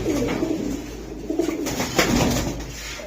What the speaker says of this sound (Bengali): এই দেখেন কবুতর